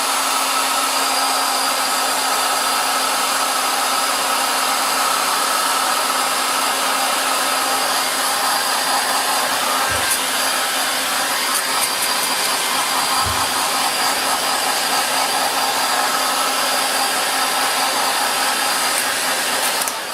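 A hair dryer blows steadily at a canvas to dry paint, a continuous loud whooshing hum with a steady whine, running alone for the whole stretch.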